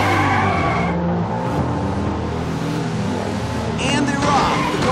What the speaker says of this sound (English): The cars are screaming past the starting line.